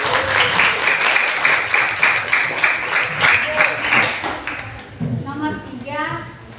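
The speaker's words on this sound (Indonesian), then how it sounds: "Tepuk tangan dulu." Classroom applause for a student presenting plans to become an English teacher: a room of people clapping loudly and steadily for about five seconds, then fading as a voice begins speaking.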